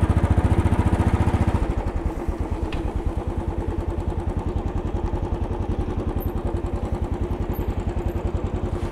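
A motorcycle rides along U Street in Washington, DC, its engine chugging in a steady, close, pulsing rhythm that climbs slightly in pitch after a brief shift, loud and alone throughout.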